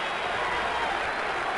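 Yankee fans on their feet at a 1978 playoff baseball game, a steady, dense roar of cheering and applause from a large stadium crowd, continuous and fairly distant.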